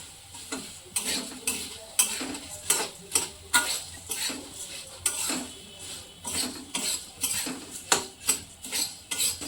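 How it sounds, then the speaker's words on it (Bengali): Puffed rice being stirred for bhel makes a regular run of crisp, rattling scrape strokes, roughly one or two each second, close by and clear, with a faint hiss between the strokes. "এই যে একটু নেড়ে নিলাম।"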